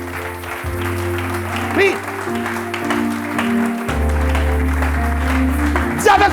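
A church congregation claps for the Lord during a French-language sermon, with sustained applause running under a speaking voice and brief vocal responses.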